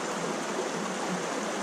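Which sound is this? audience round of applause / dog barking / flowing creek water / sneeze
flowing creek water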